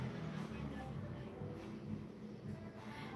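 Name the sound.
noisy passing motorcycle exhaust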